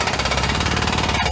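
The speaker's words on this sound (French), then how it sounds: "ou encore un marteau-piqueur." Simulated jackhammer effect from the Zoom Escaper app for online meetings: a loud, steady rapid pounding rattle with a broad noisy texture, continuous throughout with a brief dip near the end, and no voices.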